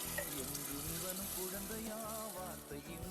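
Water is poured into simmering vada curry gravy in a pan, a steady, dense splashing and bubbling gush that runs continuously at moderate loudness, with a faint musical or kitchen background underneath.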